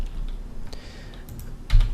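Keys on a computer keyboard tapped in a quick, irregular clatter, close and moderately loud, while controls are remapped for a game on Windows XP Home Edition.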